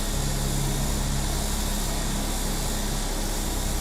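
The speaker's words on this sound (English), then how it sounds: "That must be the windmill noise." A vertical takeoff aircraft's rotors give off a steady, unbroken windmill-like drone, loud and close, holding the same broad whooshing hum throughout.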